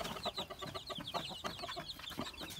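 Hens cluck steadily alongside the high peeping of their chicks, a busy, close chorus of fowl scratching about in their pen without a break.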